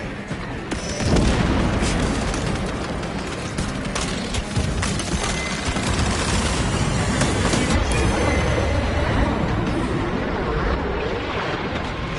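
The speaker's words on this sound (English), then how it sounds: "Deploying frag grenade." A frag grenade is thrown and detonates in the Space Marine 2 campaign, giving a loud, close boom, then a long heavy rumble of debris and battle noise that carries on to the end.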